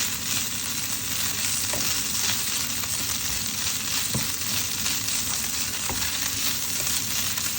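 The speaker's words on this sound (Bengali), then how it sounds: "এখন এগুলো ভালোভাবে কিছুক্ষণ উল্টিয়ে পাল্টিয়ে নাড়াচাড়া করে নেব" Taki fish being stirred and turned over in a pan, with a steady broadband sizzle of frying throughout and a few faint scraping knocks of the spoon, no talking.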